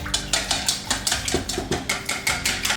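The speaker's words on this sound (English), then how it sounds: "Now I'm gonna beat it and then mix it together" Ice cream cake mixture is beaten in a bowl, a utensil striking the bowl in quick, regular clinks about four times a second, close and fairly loud, with no voices.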